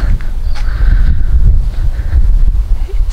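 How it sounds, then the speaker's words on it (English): A light breeze buffets an outdoor microphone on a clear night during astronomy imaging, producing a steady low rumble with soft gusting throughout and no talk. "It's just a light breeze, not as windy as previous."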